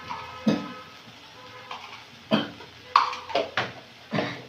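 Boiled potatoes are stirred and fried in spice paste for Kashmiri aloo dum, giving a string of separate spatula scrapes against the pan over a faint, low sizzle.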